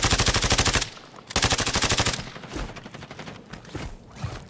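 Rapid automatic gunfire in Warzone 2 rattles in dense, fast bursts, one long volley then a second after a short gap, followed by scattered quieter shots and game effects.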